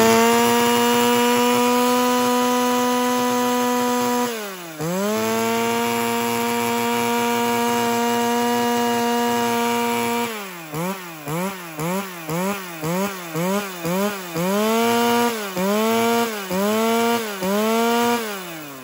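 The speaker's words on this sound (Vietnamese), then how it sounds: "Tét nổ này, con C7 cho các bác cảm nhận cái động cơ Sirioa." A Japanese C7 chainsaw with a Sirioa engine runs loudly up close, holding a steady droning idle, dipping once, then revving up and down in a rapid repeated series of throttle blips.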